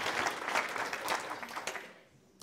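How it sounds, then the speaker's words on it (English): An audience claps in brief, dense applause that starts strong and fades away after about two seconds. "Can I get a round of applause for that?"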